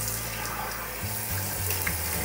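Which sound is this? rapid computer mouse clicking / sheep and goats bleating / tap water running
tap water running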